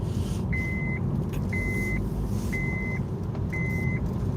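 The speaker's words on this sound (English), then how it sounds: "That's the seatbelt alarm." A car's seatbelt warning chimes four times in a steady rhythm, each tone lasting about half a second, over a constant low engine and road rumble inside the vehicle.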